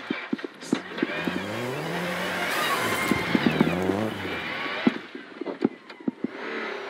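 Rally car on a snowy forest stage, its engine revving and rising in pitch as it slides and accelerates, passing fairly close with gear changes and sharp crackles, then fading into the distance.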